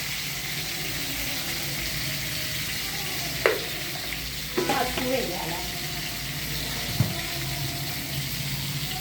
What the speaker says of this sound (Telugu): ఇప్పుడు గంటతో కలుపుతున్నాను